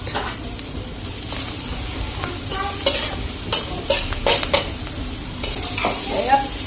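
Spices such as cumin and coriander powder, cloves, cardamom and cinnamon sizzle in a pan with potatoes as a spoon scrapes and clinks against the metal in irregular strokes, close and fairly loud.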